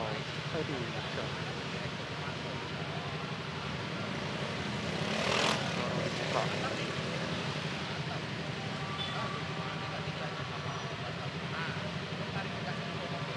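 A train rumbles past in the distance at a level crossing over steady traffic noise, with a louder swell partway through and faint voices now and then.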